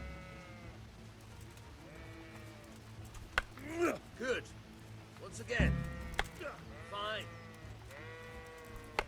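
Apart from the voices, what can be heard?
sheep bleating in video game Kingdom Come: Deliverance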